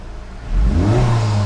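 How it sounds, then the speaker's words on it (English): Honda Civic Type R FL5 fitted with a Spoon part, its engine swelling from a low idle into a quick rising rev, loud and close, with no talk over it. "Let's rev it."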